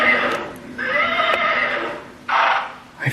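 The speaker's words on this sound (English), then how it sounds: "Is that your horse?" A horse whinnies indoors in two loud, drawn-out bursts with short gaps, close by and clear over a quiet background.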